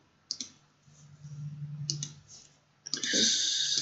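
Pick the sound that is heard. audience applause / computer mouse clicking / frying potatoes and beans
computer mouse clicking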